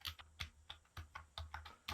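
Typing on a QSENN SEM-DT25TS low-noise membrane tenkeyless keyboard, with about a dozen soft, muffled keystrokes in an uneven rhythm, close and fairly quiet, with no talking.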